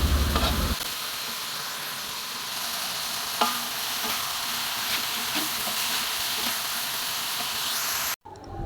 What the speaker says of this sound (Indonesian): Dalam wajan kita siapkan minyak yang sudah dipanaskan, kemudian bawang putih, bawang merah yang sudah diiris tipis, kita tumis